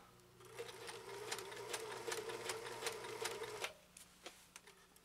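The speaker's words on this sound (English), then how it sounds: "Never sewed 4 layers of bubblegum material." A 1974 Kenmore 1050 sewing machine stitches through four layers of fabric, a rapid close mechanical chatter that runs steadily for several seconds, then stops, leaving a few faint clicks.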